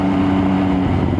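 An MV Agusta Brutale 800 naked motorcycle idling close by, a loud steady engine and exhaust drone with a firm low pulse and no change in pitch.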